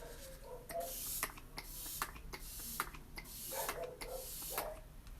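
Several short bursts of hissing Touch Behold setting spray onto a face, close up, repeated at irregular intervals over a quiet background.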